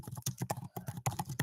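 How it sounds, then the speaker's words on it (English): Rapid, uneven keystrokes clatter on a computer keyboard, close and dry, with short bursts of clicks and brief pauses and no voices. "I'm just typing in something."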